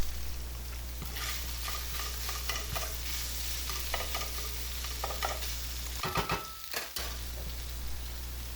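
Tofu scramble fries and is stirred in a pan while the last of its water cooks off, a loud continuous sizzle broken by repeated scraping and stirring strokes, with no voices.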